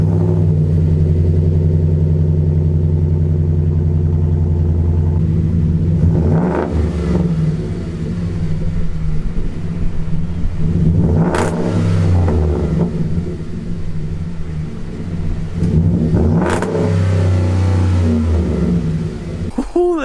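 A Ford pickup's 5.0 V8 idles with a deep, steady rumble, then revs up three times in sharp bursts that swell loudly and fall back, close by and with no talk.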